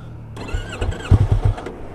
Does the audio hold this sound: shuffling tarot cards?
no